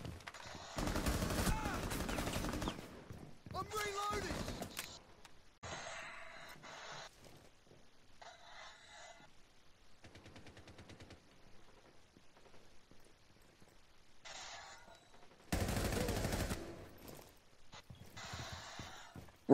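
Bursts of gunfire in a video game: loud, rapid automatic volleys come in several separated clusters, with quieter stretches of scattered shots and game noise between them.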